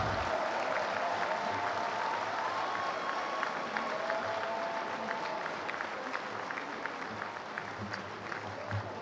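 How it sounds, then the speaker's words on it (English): A conference hall audience at a Nigerian professional gathering gives a sustained round of applause for the nation's president, a steady, dense clapping wash heard from a distance, with faint tonal sounds drifting over it. "A round of applause, please"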